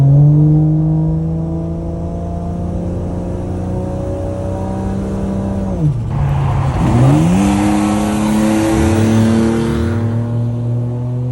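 An 800bhp Nissan Skyline R33 GTR street car revs hard while driving. Its engine climbs through the gears, with a sharp drop and fresh pull midway, loud and close from inside the car.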